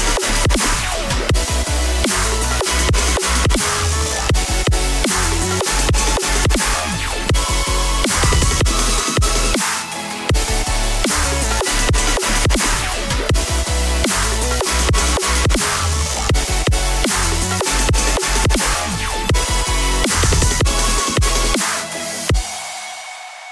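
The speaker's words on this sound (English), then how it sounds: "I think this sounded a lot more like dubstep this time, but it still didn't turn out as aggressive as I would have liked." Self-made dubstep track with saw leads and heavy drums, loud and dense, driving steadily with pounding kicks and snares, pausing briefly near the middle and cutting off at the end.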